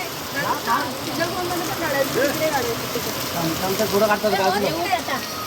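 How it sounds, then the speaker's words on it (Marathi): Steady heavy rainfall hisses throughout, with voices and crowd noise mixed in the background. "बेकार पाऊस झाला रे"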